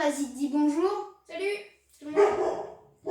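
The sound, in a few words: dog barking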